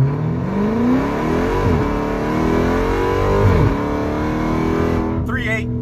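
Car launching hard on Hoosier drag radial tires, the engine revving up through several gears with rising whine and sharp shift breaks, loud and close from inside the cabin, ending with a quick high squeal.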